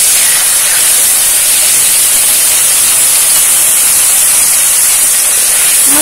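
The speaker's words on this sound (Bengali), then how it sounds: "এই গুলে রাখা মশলাটাও দিয়ে দিচ্ছি।" Dissolved spice paste added to a hot pan while cooking a Bengali ash gourd and coconut curry, a loud, steady sizzle that hisses without a break, close and dense throughout, with no talk.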